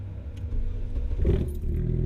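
An SR20-swapped Nissan Sentra SE-R engine running with a steady low rumble, swelling briefly into a rev near the middle, heard close and fairly loud.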